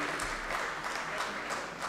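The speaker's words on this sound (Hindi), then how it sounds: "एक बार ज़ोरदार तालियां हो जाएं डॉक्टर ज़ुबैर फ़ारूक के लिए" Audience at an international mushaira poetry gathering in Pune claps steadily, a dense, even wash of applause heard from the crowd at moderate distance throughout the short stretch.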